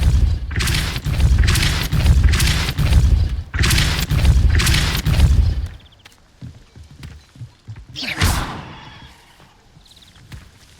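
Depulso force-push spell blasts in Hogwarts Legacy, a run of loud booming thuds in rapid succession for several seconds, then scattered lighter impacts and one more burst after a short lull.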